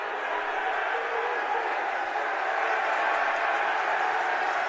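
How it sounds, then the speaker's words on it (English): A basketball arena crowd roars in a dense, sustained wash of cheering and noise that holds steady throughout. "And listen to this crowd."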